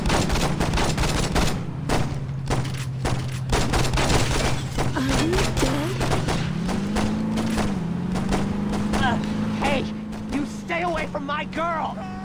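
Gunfire in the video game Saints Row from 2006 crackles in rapid volleys over a steady engine drone, while voices talk across much of the scene.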